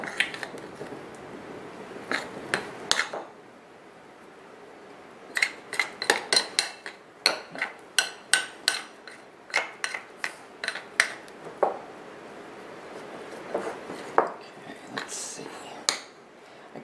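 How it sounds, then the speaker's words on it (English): Hands knead a batch of faux ice cream dough, making soft, squishy, sticky presses in irregular bursts with brief pauses, close up and fairly quiet. "I'm going to go ahead and knead it with my hands."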